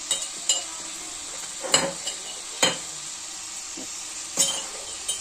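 Vegetables with a couple of dried red chillies and salt fry in a pan while being stirred, a low steady sizzle punctuated by several sharp spatula clinks and scrapes against the pan, with no speech.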